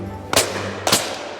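Two shotgun blasts from a William Powell Perdix, sharp loud reports about half a second apart, each with a short decaying echo, heard outdoors.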